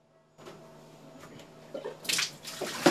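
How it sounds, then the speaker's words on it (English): Hot Beppu spring water at 60 degrees pours from a hose fed by a delivery tank into a home bathtub, a steady splashing gush that grows louder and more turbulent toward the end. "The 60-degree Beppu spring water is poured into the bathtub."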